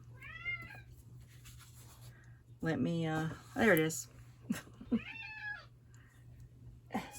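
A pet cat meows several times indoors, short rising and falling calls spaced across the clip, with someone speaking briefly between them over a low steady hum.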